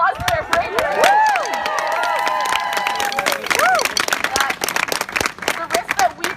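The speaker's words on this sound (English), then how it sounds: "Can we give them a round of applause for their bravery?" A crowd at a campus solidarity rally at Yale claps loudly and cheers, with whooping voices over the clapping at first, then sharper, scattered claps.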